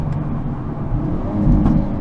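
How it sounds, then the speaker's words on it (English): A 2022 Hyundai Elantra N's exhaust crackles and pops under braking after a full-throttle run, a few sharp bursts rising over a steady, close engine and road drone. "it's just backfiring, being that hooligan self"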